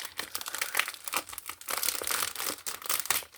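Crackly crinkling of plastic packaging being pulled open, a dense run of sharp rustles and crunches, close up and fairly loud, with no talking.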